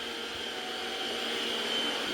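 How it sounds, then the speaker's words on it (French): Ultenic T10 robot vacuum cleaner running indoors, a steady close hum with a high whine that holds evenly throughout. "C'est trop bien ce genre d'aspirateur."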